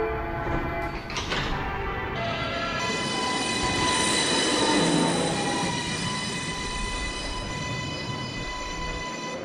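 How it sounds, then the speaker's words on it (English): A New York City subway 4 express train, Bowling Green bound, pulls out of the station with a loud, steady rumble of wheels on rail and high metallic squeals rising over the roar, alone without voices. "This is a Bowling Green bound 4 express train."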